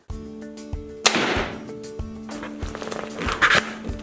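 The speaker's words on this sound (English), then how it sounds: "So let's go ahead and shoot it, and let's see how it flies." A Centerpoint Gladiator Whisper 405 crossbow fires once at close range, a sharp snap followed by a short, decaying thrum and rattle, set against a faint steady hum.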